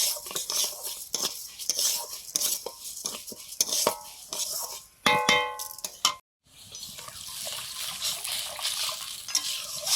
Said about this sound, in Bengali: মুগ ডালটা অল্প একটু তেল দিয়ে ভেজে নিচ্ছি সর্ষের তেল দিয়ে